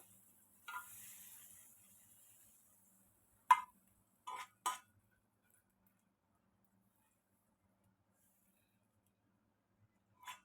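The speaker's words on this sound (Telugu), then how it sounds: "లైట్గా మిల్క్ వేసేస్తాము ఎందుకంటే గీ వేస్ట్ అవ్వకుండా" Milk poured into a hot pan coated with ghee while making palm fruit kheer gives a brief, soft sizzle lasting about two seconds, followed by a few sharp utensil clicks and long stretches of near silence.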